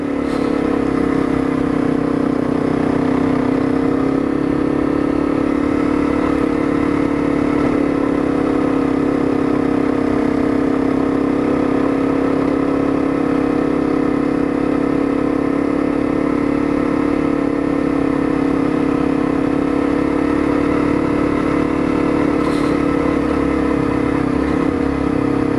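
Honda CRF250L dual sport motorcycle engine while riding, a loud steady mid-pitched drone that holds near-constant throughout with wind rush, close to the rider.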